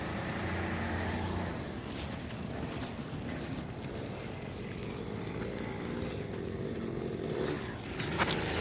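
Weed whacker running outdoors, a continuous buzzing engine drone that holds steady throughout at moderate distance, with a slight shift in pitch partway through.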